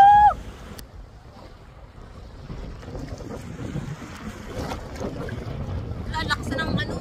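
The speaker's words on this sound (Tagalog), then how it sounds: "Ang lakas na ng agos, ng alon." Strong waves and a rushing water current at Real, Mauban, Quezon, heard as a broad turbulent wash with rough gusty wind noise buffeting the microphone, building gradually over the seconds; a voice is briefly present near the start.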